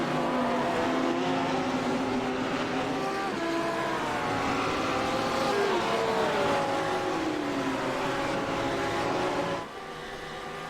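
GT3 race cars scream along a walled Detroit street circuit, a loud continuous engine wail with rising and falling pitch as cars pass, dropping off slightly near the end.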